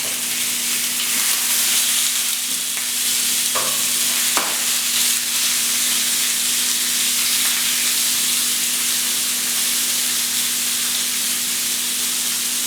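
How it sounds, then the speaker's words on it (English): A salmon fillet fries in a pan with a steady, close sizzle and hiss, with a couple of faint clinks as the fish is turned, and no talking. "Now I'm gonna turn my salmon onto the other side, which I'll let cook for at least a bit long."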